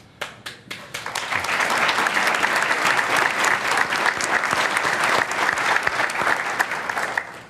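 Press club audience bursting into applause for the Ukrainian ambassador: a few isolated claps at first, then loud, dense, sustained clapping from a large room that holds steady before starting to thin.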